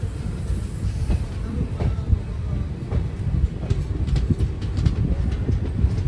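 A Guntur Express train sits at Diguvametta station, where every train stops to take on water, with a steady low rumble and scattered metallic clicks and clanks close by.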